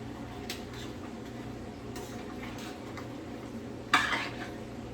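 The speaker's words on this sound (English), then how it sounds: "I'm gonna stir in my Maggie pot" Curry chicken is stirred in a pot, making quiet scraping and light clinking under a low kitchen hum. One sharper metallic clank of the spoon against the pot rings out toward the end.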